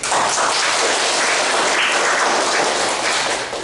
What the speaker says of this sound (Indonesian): kita kasih tepuk tangan untuk Feby.